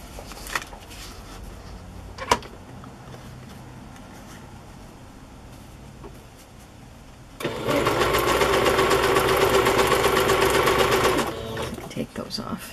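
A sewing machine stitches fabric and lace onto paper tags in one loud, continuous whirring burst of about four seconds. Quieter handling noises and a few soft knocks come before it.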